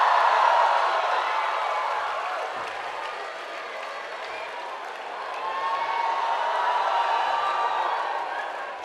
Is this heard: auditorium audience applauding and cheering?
yes